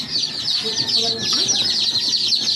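A first batch of baby chicks, about 112 of them, peeping in a dense continuous chorus of high, rapid cheeps, close and loud throughout.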